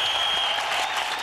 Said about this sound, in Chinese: 好，掌声给他们各位鼓励一下。